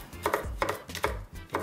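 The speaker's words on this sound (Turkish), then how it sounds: "Biberlerimi ben iri kıyım yapacağım" A knife chops bell peppers coarsely on a cutting board, giving several distinct, close thuds in an uneven rhythm with no talking.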